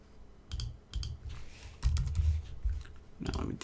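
Quick bursts of computer keyboard typing as an email address is entered while designing an iOS login screen, clustered clicky keystrokes with short pauses, close and clear, no voices.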